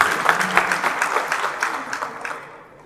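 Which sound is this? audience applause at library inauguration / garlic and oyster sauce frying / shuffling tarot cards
audience applause at library inauguration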